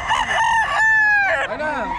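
A rooster at a poultry gathering in Bocaue crows one loud, close, drawn-out call, with clucking and nearby voices around it.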